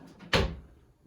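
A laundry room cabinet door bangs shut once, a sharp close wooden knock with a brief rattle after, and light handling noise before it.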